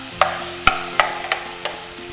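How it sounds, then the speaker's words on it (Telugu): Chicken pieces are stirred with pepper in a pan, with five sharp scraping clacks of a spoon against the pan spaced about half a second apart over a low background sizzle; nobody speaks. "కొద్దిగా మిరియాల పొడి వేసుకొని ఈ పీసెస్ అంతా ఇది కోట్ అయ్యేటట్టుగా చక్కగా కలుపుకొని"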